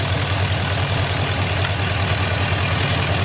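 A 2006 Chevy Impala SS with the LS4 V8 idles with a vacuum leak, heard up close as a steady low rumble under a loud broadband hiss with an uneven, slightly rough pulse and no talk.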